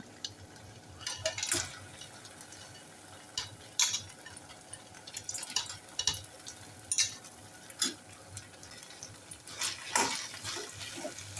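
A spoon clinks and scrapes in a pan as fried cabbage manchurian is tossed through a soy and chili sauce, with irregular stirring strokes over a soft sizzle and no voices.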